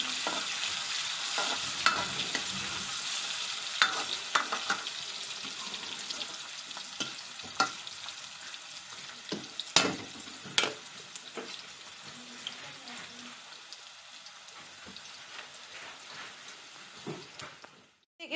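Onions shallow frying in a pan for a potato sabzi give a continuous, soft crackling sizzle, broken by occasional sharp taps and scrapes of stirring, with no talk over it.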